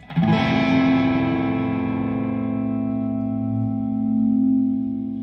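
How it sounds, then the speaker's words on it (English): A sustained, distorted electric guitar chord rings out through an effects pedal with a slowly sweeping, swirling phaser-like shimmer, loud and steady with no voices. "You can make this sound like a phaser."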